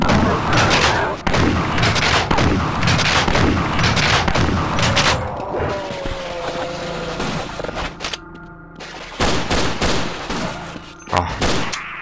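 Gunfire from the video game Half-Life: Need for Energy, with dense rapid bursts of shots and heavy booms filling the first half, then sparser loud shots after a calmer stretch, all loud and close.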